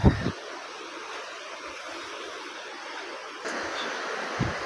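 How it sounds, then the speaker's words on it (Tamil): Continuous broadband rush of a wild forest waterfall near Marayoor, Kerala, heard from nearby, steady throughout with a couple of low thumps at the start and end. "அருவியோடைய சத்தம் உங்களுக்கு கேட்கும்னு நினைக்கிறேன்"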